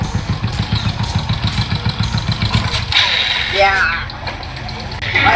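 A motorcycle engine is started and chugs in a fast, rhythmic putter for a few seconds before the tone shifts into a rougher running rumble, loud and close, with voices talking over it.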